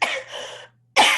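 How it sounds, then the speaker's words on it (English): A lecturer coughs twice, a harsh, close, breathy burst followed by a short pause and a second sharp cough. "Sorry about all the coughing."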